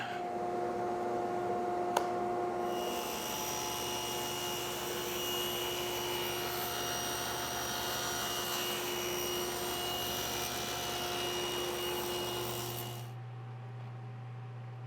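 Table saw running steadily through a miter cut with a crosscut miter sled in a workshop, a continuous loud motor whine and blade hum that spins down at the end.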